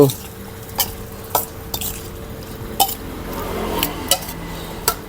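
A spoon stirs a Thai chicken feet salad dressed with fresh lime, giving repeated close, sharp clinks and scrapes against the bowl at an uneven rhythm over a soft, wet mixing sound.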